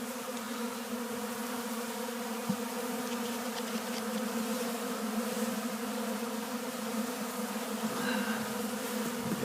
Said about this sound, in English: you wouldn't see this many bees here